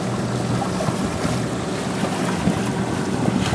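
Sailboat crossing the James River on a windy day, steady loud wind rush and water wash against the hull, continuous and unbroken.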